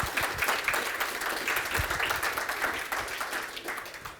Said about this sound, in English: All right, so a round of applause.